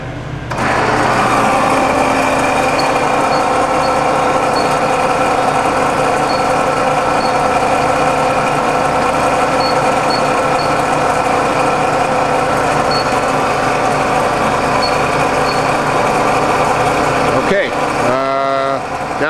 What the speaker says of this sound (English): The main machine is just on now. That's the motor.